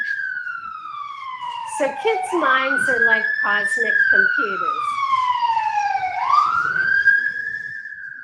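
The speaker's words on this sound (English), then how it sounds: "It's great to have the sirens right on cue." An emergency vehicle siren wails up and down with a clear, prominent rise-and-fall sweep, continuing steadily while someone speaks over it.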